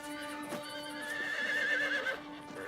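Cartoon horse from the Yakari animated series gives a whinny over a sustained tonal musical bed, with a brief rising call near the middle; no talking.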